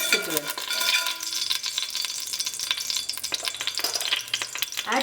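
Onions sizzling and frying in a pan for Hyderabadi chicken dum biryani while salt is mixed in, with steady close stirring and scraping over a continuous hiss.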